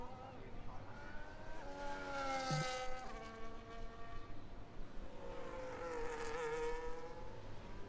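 Onboard Formula 1 car engine lapping Monaco in an F1 video game, high whining revs that climb and drop through gear changes, fairly faint and steady across the lap.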